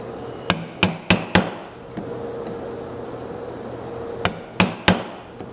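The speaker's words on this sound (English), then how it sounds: "Cut this out by hand. It's really pretty easy. Just get you a sharp chisel" Sharp chisel driven by hand into wood for an oak blackboard frame, struck in two clusters of crisp, close knocks separated by a quiet pause.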